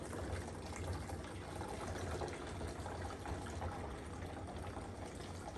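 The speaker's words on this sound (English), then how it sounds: "step number 3 is pour in 2 cups of vinegar" Vinegar poured into a homemade volcano science experiment gives a continuous gushing, fizzing liquid rush that stays loud and even for several seconds with no talking.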